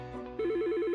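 An electronic telephone rings in an advert for business phone systems, starting with a brief tone and then switching to a fast, warbling trill that is close, clear and steady.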